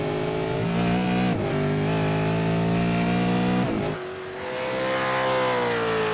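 A V8 Supercar in a sim racing game at Imola, its engine revving hard with steady harmonic tones stepping through gear shifts, a sharp drop near the end, then rising again, loud and alone.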